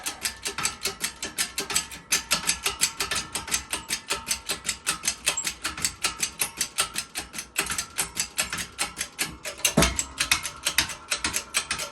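A wheel bearing for a Yugo/Fiat being pressed into a steering knuckle, heard as a long run of rapid, steady ratcheting clicks close by, with a brief heavier knock near the end.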